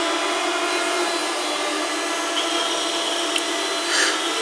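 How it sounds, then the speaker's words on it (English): An old commercial food mixer runs with a steady, even whirring drone, close and alone, holding a constant level throughout. "let's start to test the old mixer"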